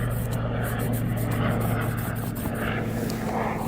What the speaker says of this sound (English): there's a plane right now, or no, a helicopter right now